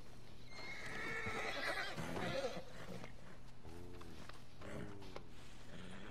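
A horse whinnies loudly with long quavering neighs, hooves clip-clopping beneath, amid a busy mix of background sound.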